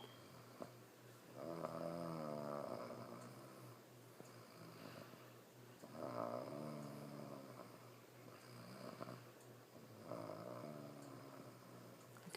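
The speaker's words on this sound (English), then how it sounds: "but you're snoring." A dog asleep and snoring, slow rhythmic rasping snores repeating about every four seconds, close and fairly quiet, with no talking over them.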